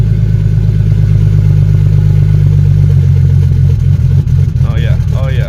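A turbocharged BMW E36 running on E85 idles steadily with a deep, even rumble, while voices talk briefly over it near the end.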